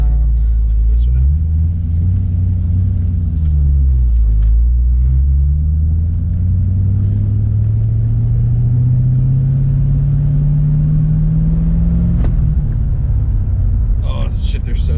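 A Cadillac drift car cruises through a neighborhood, its engine rumbling loud and close as the pitch rises and falls through gear changes and then climbs steadily under acceleration. A brief clatter comes near the end.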